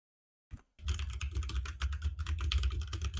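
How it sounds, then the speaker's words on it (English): Typing on a computer keyboard, close and busy: a single tap, a brief pause, then a rapid, continuous run of clattering keystrokes with no talking. "Can you guys hear my typing?"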